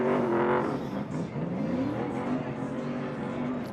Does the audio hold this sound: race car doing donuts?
yes